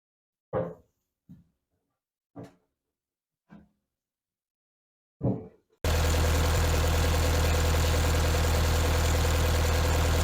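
The Cummins diesel in a Gehl skid steer loader turns over after a few separate cranking bursts, then catches and settles into a loud, steady, rumbling idle up close.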